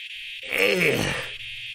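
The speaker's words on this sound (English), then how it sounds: "Oh, I hate those cicadas, man." A swell of buzzing insect noise from Silent Hill rises and fades within about a second, a harsh, grating drone that sounds close and fairly loud with no talking over it.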